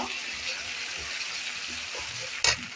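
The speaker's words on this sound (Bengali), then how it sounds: "এখন এটাকে একটু ভেজে নেব" Cumin paste fries in a pan with a soft, even sizzle and hiss close by, ending in a brief sharp clatter near the close.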